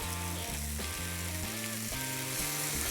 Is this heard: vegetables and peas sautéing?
yes